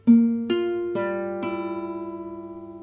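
The four opening notes of a song played in sequence on a synth, each entering with a soft attack and ringing into the next, clear and unaccompanied.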